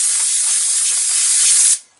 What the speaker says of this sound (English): I got an air hose here and I'm blowing the